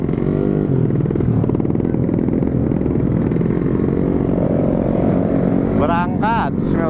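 A motorcycle fitted with a new Embus aftermarket exhaust, replacing a CLD X Monster, accelerates on a night ride in Lembang with a loud, close engine note rising and sweeping in pitch, and voices briefly join near the end.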